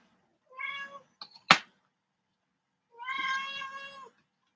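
A house cat meows twice, close and clear: a drawn-out cry, a short chirp and a soft thump, then a longer, louder meow after a pause, with no talking.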